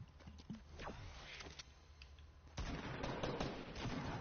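Video game gunfire: distant, muffled shots crack irregularly at first, then turn into a denser rattling burst halfway through, faint and low in level with no speech.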